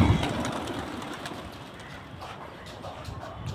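Pigeons, blue Patiala-type birds kept by a fancier, coo and rustle close by in a steady low murmur, with faint scattered movement sounds and no talk.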